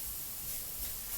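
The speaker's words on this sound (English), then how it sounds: "We put a couple of drops in there, shake it up, spray it out." An airbrush sprays cleaner out through its barrel, giving a steady, fairly faint hiss of air that runs through the whole moment without a break.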